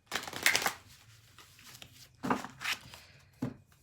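Oracle cards being shuffled by hand in three quick riffling bursts, close and crisp, separated by short pauses of near quiet.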